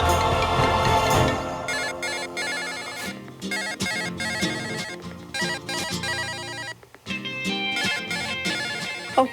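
A telephone ringtone playing in a Hindi TV drama scene, a loud melodic electronic tune in repeated rhythmic phrases with brief pauses, alone without talk.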